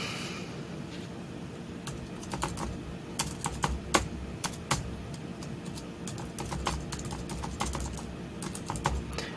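Computer keyboard typing while entering a name into a swim club's online coach profile, with a steady run of close, crisp key taps in quick irregular bursts over faint room hum.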